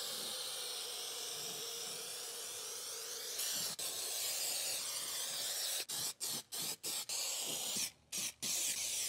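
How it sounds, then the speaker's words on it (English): A can of 3M 74 foam adhesive sprays a steady close hiss over a Ford Transit rear column, then the nozzle is pressed in several short bursts with brief gaps toward the end. "With our column degreased, we're ready to start applying adhesive."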